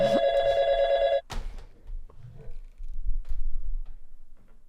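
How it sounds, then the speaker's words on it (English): A telephone bell rings loudly for just over a second and then stops abruptly, followed by quiet room noise and faint rustling. "the phone's ringing."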